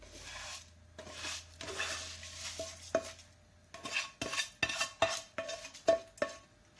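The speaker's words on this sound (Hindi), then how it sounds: "इस तरह से चम्मच चला लें।" A spoon scrapes and clinks against a pot while fried vermicelli is stirred into boiled milk, giving a run of sharp, close metallic taps that grow more rhythmic toward the end, with no talking.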